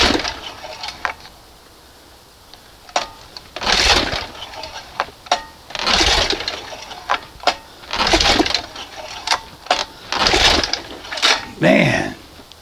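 Recoil rope pulls on a 1971 Johnson 20 HP outboard motor, a series of about five rasping, whirring pulls spaced a couple of seconds apart with small clicks between, close up and without the engine firing.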